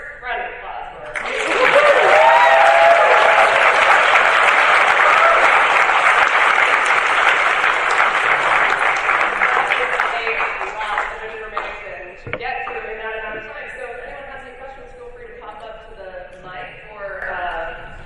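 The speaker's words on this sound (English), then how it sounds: "round of applause for our" Loud audience applause at a Comic-Con panel on Daredevil: Born Again, sustained clapping from a large crowd that swells, holds for several seconds, then fades into scattered claps and murmurs.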